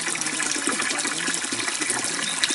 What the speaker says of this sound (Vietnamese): Hôm qua nó mưa là cái suối này nó to nước đục